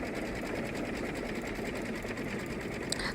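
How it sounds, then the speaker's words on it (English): A home embroidery machine stitches in a rapid, even mechanical whir with fine rhythmic needle clatter, loud and continuous, without talk. "about a minute to finish embroidering this"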